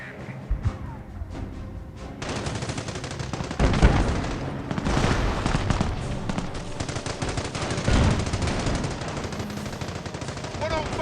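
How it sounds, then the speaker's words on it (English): A well-placed machine gun fires in long rattling bursts during a battle in Company of Heroes mobile, loud and dense, with scattered gunshots and booms around it. "It's a well-placed machine gun"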